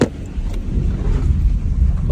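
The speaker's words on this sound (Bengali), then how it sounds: "বাতাস আসছে।" Strong storm wind after heavy rain in Binghamton roars steadily against the microphone as a low, gusty rumble, with someone speaking over it.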